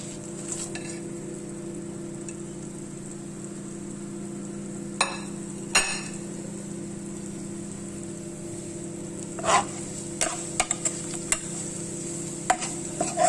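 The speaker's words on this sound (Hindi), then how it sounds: "अब ये इतनी देर भूनना है जिसमें कि ये लाल मिर्चें जो हैं ये ज़रा मोटी मोटी सी फूल आएंगी" Cumin seeds and whole red chilies roast in a pan with fenugreek seeds, giving a continuous close sizzle broken by occasional scraping stirs.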